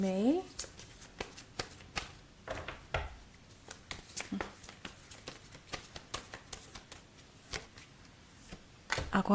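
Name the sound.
tarot cards being shuffled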